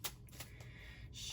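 A deck of tarot cards is shuffled by hand, with a few quick, faint, close riffles and a soft rustle building toward the end.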